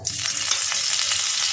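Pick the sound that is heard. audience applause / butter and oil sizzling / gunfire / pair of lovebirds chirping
butter and oil sizzling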